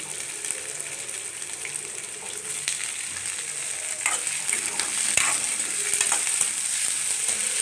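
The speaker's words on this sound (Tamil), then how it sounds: "பச்சை மிளகாய் ஆட் பண்ணிக்கலாம் லைட்டாக வதங்கினா போடணும் தக்காளி ஆட் பண்ணிக்கலாம்" Green chilies and tomato sauté in a hot pan for sambar, producing a steady close sizzle and crackle of frying with occasional stirring scrapes and clinks, with no voices heard.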